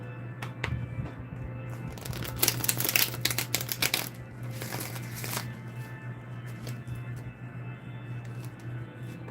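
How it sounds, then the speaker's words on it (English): Rider-Waite tarot cards are butterfly shuffled in a dense burst of crisp riffling clicks and flutters, peaking mid-way and then trailing into a quieter, broken riffle over a steady low hum. "Two more butterfly shuffles."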